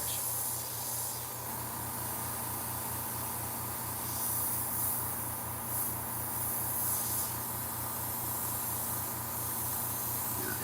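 A cheap $30 airbrush sprays continuously, giving a faint, steady hiss with a low hum underneath and no voices.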